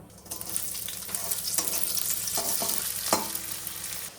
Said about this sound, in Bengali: পেঁয়াজ দিয়ে ব্রোকলিগুলোকে ভেজে নেব।